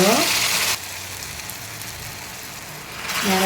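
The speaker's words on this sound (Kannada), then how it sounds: "ಇದೇ ಅಳತೆಯಲ್ಲಿ 4 ಕಪ್ ನೀರನ್ನು ಬಿಸಿ ನೀರನ್ನು ಹಾಕ್ತಾಯಿದ್ದೀನಿ." Hot water poured into a roasting mixture in a pan while cooking a sweet prasada sets off a loud, harsh sizzling hiss that drops sharply, simmers more quietly, then surges again.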